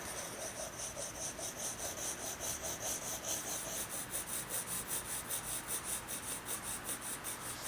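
A pencil rubs steadily back and forth across paper in a soft, continuous rhythmic scratching while a cylinder drawing is shaded and blended, close and faint.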